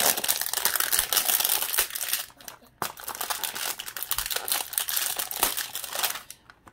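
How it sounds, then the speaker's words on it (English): Packaging on a 2020 Playbook retail trading card box is ripped off, heard as close crinkling and tearing plastic in bursts, with a brief pause before a final tear. "I'm going to go ahead and rip this off really quick."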